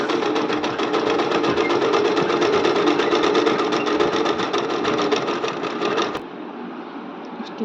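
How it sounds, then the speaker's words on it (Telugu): A sewing machine stitches a fall onto a saree, running in a fast, even rhythmic clatter for about six seconds before stopping abruptly, close and loud. "చీర చివరన చివర వరకు స్టిచ్ చేసుకోవాలి ఫ్రెండ్స్"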